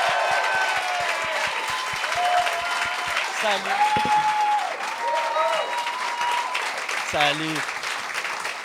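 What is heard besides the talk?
studio audience applause for guests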